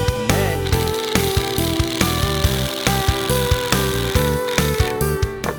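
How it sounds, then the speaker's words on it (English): Drill driving slowly into wood while a board is fastened, a close, buzzing motor with regular pulsing chatter, heard loud and without talk. "you start drilling nice and slow"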